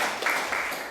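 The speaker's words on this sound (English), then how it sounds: "Let's give a round of applause for her." Applause from a class audience welcoming a guest at a Sunday ISKCON gathering in Atlanta, a brief steady patter of many hands clapping at moderate distance.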